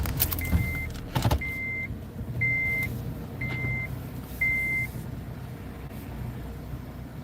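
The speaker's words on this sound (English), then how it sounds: "let me move the car up so she can at least get closer." A car is moved forward on a street by a laundromat in Brooklyn, with low engine and road rumble under five evenly spaced electronic beeps and a few knocks near the start.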